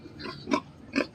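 Two short grunting oinks from a pig, close by, separated by a brief pause, with quiet background noise between.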